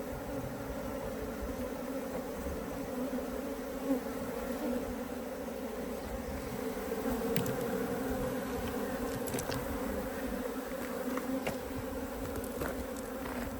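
Honey bees gathered in a water meter hive produce a continuous, even buzzing drone, close and steady, with faint clicks and rustles scattered through.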